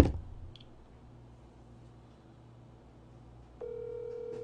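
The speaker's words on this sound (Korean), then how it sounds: "일단 흥민이한테 전화해볼게요" A phone call being placed rings out with a steady ringback tone, a sustained electronic hum starting partway through after a quiet stretch with faint background clicks, no one talking.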